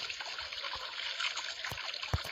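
Water running in the video game Zoolax Night, a short, thin trickle and splash at moderate level with a couple of brief knocks.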